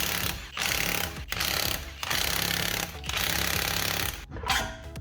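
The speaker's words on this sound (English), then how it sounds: "So we've got 5 lug nuts on this thing, which is weird for me because I like 4-stud cuts. So I'll rip them off" A power tool rattles off the five lug nuts on a Toyota Camry wheel during a coilover suspension install. It gives four loud hammering bursts of about a second each, separated by brief pauses, with no voices.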